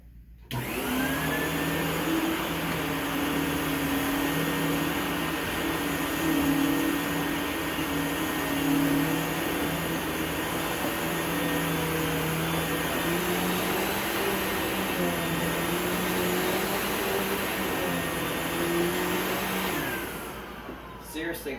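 A vacuum cleaner, either a Filter Queen Majestic or a Hoover canister, running loud and steady with a constant motor whine for about twenty seconds before switching off.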